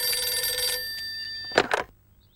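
Cartoon telephone bell ringing loudly and steadily for most of the clip, a bright repeated electric ring that stops, followed by a short clatter as the receiver is picked up.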